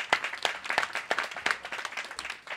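A small audience at a grand opening claps, scattered distinct hand claps in an uneven rhythm, moderately near and fairly quiet.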